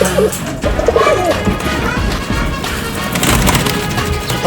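Pigeons in a loft, with soft cooing and scattered wing flutters mixed into a busy, continuous background of clatter and knocks, all fairly loud and close.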